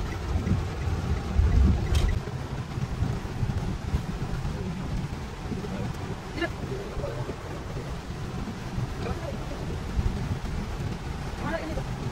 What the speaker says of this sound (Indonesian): Oh, hujan. Gawat.